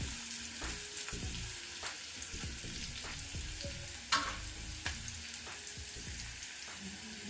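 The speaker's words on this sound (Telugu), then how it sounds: "ఇది కొంచెం మీడియం ఫ్లేమ్ మీద పెట్టుకొని వేయించుకోవాలి" Ginger garlic paste fries in a pan over a medium flame, a steady close sizzle broken by repeated scraping stirs and light clinks of a spoon against the pan, with one sharper knock midway.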